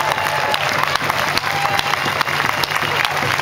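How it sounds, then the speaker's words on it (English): An audience at a gathering against a pipeline and tanker project applauds steadily and loudly, with a few scattered voices in the crowd. "Can we give them a round of applause?"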